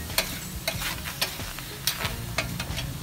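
Chicken breast pieces frying in a pan with onion, garlic and ginger, a steady close sizzle broken by repeated sharp scrapes and clicks of a utensil stirring.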